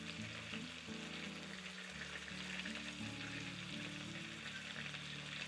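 Shrimp frying in melted butter in a pan gives a steady, close sizzle and crackle throughout, layered over a low, humming background tone.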